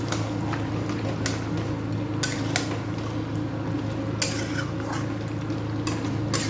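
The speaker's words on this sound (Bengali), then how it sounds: "আর একটু কষাবো, মাংস যত কষবে তত টেস্ট" Mutton being stirred and sautéed in a pan, with a constant sizzle under repeated sharp scrapes and clinks of a metal spoon against the pan, close and fairly loud.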